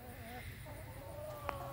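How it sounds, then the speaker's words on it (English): Silver Lace Wyandotte chickens cluck softly in a quiet yard, with low murmuring calls and a brief sharper note near the end. "here's the rooster, this Silver Lace Wyandotte."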